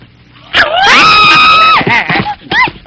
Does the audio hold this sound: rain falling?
no